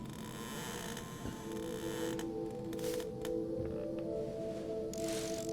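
Old rocking horse in Deep Sleep: Labyrinth of the Forsaken creaking and squeaking as it rocks, a drawn-out groan over a low steady hum.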